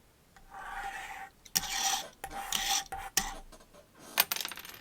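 Small die-cast Hot Wheels toy car scraping across a hard surface, a few rough gritty bursts of scraping in separate strokes, close and fairly faint, with no one talking.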